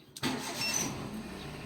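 A noisy Hyundai Eon windshield wiper motor kicks on abruptly and keeps whirring with a rough, noisy hum, close and steady for the rest of the moment.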